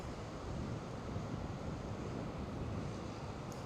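Atlantic surf at Rabat Beach in Morocco, a steady, broad wash of waves rolling in, with wind buffeting the microphone throughout.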